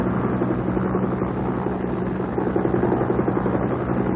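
A Vietnamese air force helicopter flies north over the flooded Mekong delta, its steady engine and rotor drone holding loud and continuous throughout with no speech.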